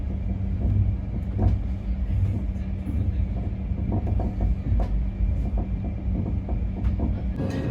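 Passenger train hauled by an old WAP-7 electric locomotive running near Mathura, a steady close rumble with rhythmic wheel clatter and a constant low hum throughout.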